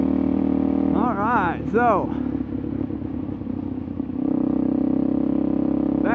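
A motorcycle engine revs and rises through gear changes while being ridden off-road, loud and close, dipping in the middle, with someone talking over the engine.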